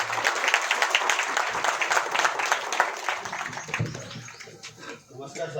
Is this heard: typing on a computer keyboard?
no